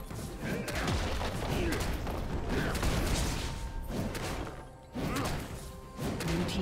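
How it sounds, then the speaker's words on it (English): Crashing, crumbling destruction of a turret in League of Legends, loud repeated smashing and thudding impacts with mechanical creaks, over game sound. "Blue team's turret has been destroyed."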